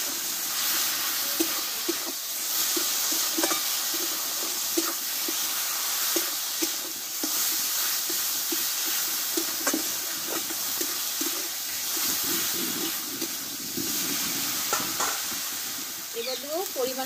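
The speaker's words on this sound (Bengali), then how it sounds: "মশলাটা ভালোভাবে কষে নেব।" Spice paste with tomato, ginger paste, whole coriander, whole cumin and green chillies stirred and frying in a pan, with a steady sizzle and hiss and repeated scraping stirs throughout, close and alone.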